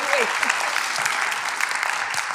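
Applause from a conference crowd for prize winners, a steady, full roll of many hands clapping at even loudness, with a few voices faintly mixed in.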